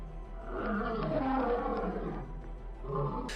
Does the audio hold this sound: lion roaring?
yes